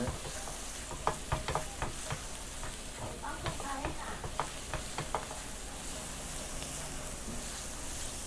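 Minced garlic sizzles in scallion oil made from canola and a little sesame oil, a steady close crackle broken by sharp scrapes and taps of a utensil stirring the pan.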